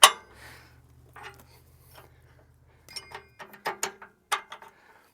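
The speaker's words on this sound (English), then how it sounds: "and then tighten up the U-bolts" U-bolts being tightened on a vintage dragline crane: a quick ratcheting whir, then a series of metallic clicks and clanks of tools and hardware, close and sparse.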